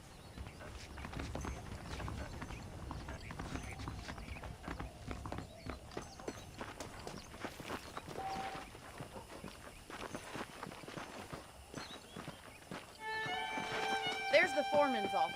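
Horse hooves clip-clop at a walking pace across a ground surface in the Red Dead Redemption video game, moderately near and faint, while someone speaks over them throughout.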